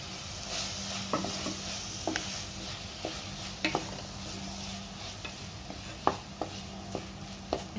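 Mixed vegetables and freshly ground masala sauté in oil with a quiet, steady sizzle, broken by scattered spoon scrapes and taps against the pan, close and fairly soft, no voices.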